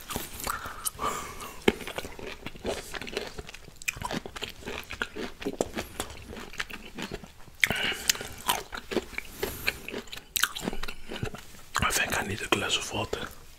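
Crisp crunching bites of pickled mango, repeated in bursts up close, with soft whispery mouth sounds and chewing between them.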